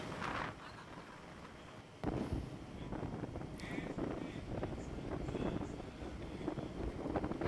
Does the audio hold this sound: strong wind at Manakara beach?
yes